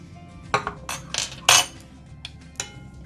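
A spoon stirring chia seeds into pudding in a glass gives several sharp clinks and scrapes, uneven and close, the loudest knock near the middle, with no one speaking.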